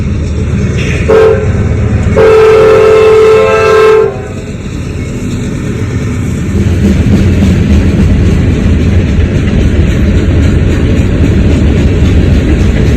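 A train passes close by, opening with loud horn blasts followed by a heavy, continuous rumble and clatter of wheels on track that carries on steadily to the end, with no talking.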